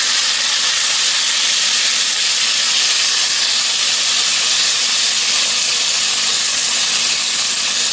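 Sauerkraut and weenies cook down in a pan, giving a steady, even hiss of simmering that stays constant throughout with no voices.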